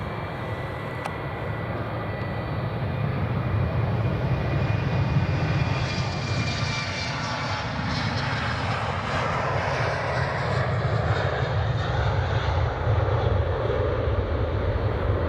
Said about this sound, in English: Oh, the sound of those engines on the 75.